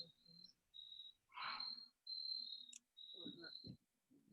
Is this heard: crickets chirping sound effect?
yes